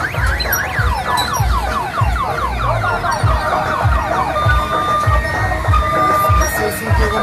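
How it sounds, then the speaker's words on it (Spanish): A noisy mechanical carnival ride churns with rumbling machinery while warbling siren-like electronic tones sweep up and down repeatedly, loud and continuous, with faint crowd noise beneath. "Eso es un juego mecánico."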